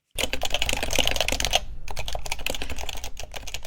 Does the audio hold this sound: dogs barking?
no